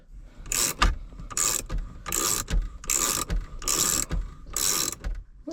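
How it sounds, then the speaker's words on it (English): A 9/16 ratchet wrench working on the steering column of a Fiero GT, giving about six bursts of rapid clicking ratchet strokes separated by short pauses, close and loud, with no speech. "So let me go grab some picks and a wrench for this, and we'll get this off."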